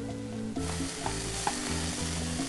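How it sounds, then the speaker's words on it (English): Chopped onion frying in bacon grease in a pan, a close, steady sizzle with light stirring scrapes and a couple of soft knocks, set against quiet background music. "And then we're going to add in our chopped onion."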